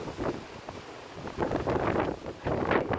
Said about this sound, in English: Wind's going soft again.